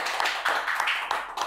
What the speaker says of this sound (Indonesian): Tepuk tangan dulu mungkin ya.